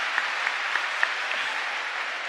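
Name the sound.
applause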